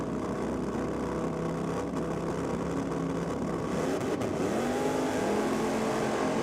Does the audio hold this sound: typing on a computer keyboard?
no